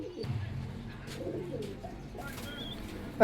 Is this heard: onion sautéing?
no